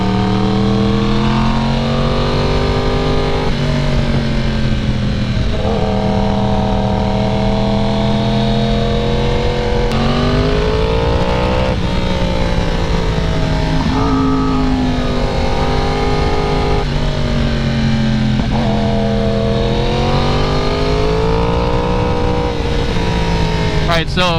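A Yamaha R1 sport bike on a winding mountain road revs loudly and continuously, its engine rising and falling through the curves with sharp shifts, up close and dominant for the whole stretch.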